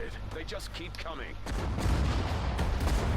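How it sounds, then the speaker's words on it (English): Anti-aircraft guns fire in the PS4 war strategy game Sudden Strike 4. Someone talks briefly, then heavy, dense booming gunfire takes over as a loud, rough barrage. "the anti-air guns are actually firing at soldiers as well"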